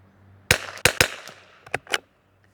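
A Tikka T1x .22LR rifle fitted with a Criterion barrel fires outdoors in wind. Several sharp, loud cracks come close together, followed by softer, shorter reports, with no talking.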